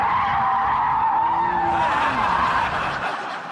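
Porsche 911 Turbo tyres skidding as the car spins, a loud sustained screeching squeal with engine rumble beneath, fading toward the end.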